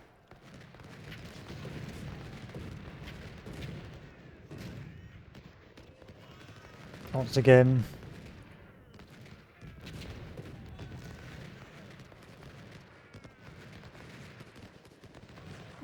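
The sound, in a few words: artillery and musket fire from the video game Ultimate General: Civil War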